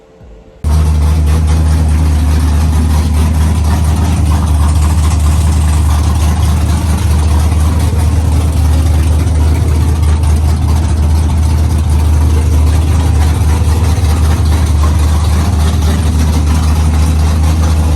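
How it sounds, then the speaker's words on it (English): A car with an LS7 engine cranks and fires up almost at once, then settles into a loud, steady, deep idle that holds evenly throughout with no voices. "Let's just get to starting up the car and dialing in this tune."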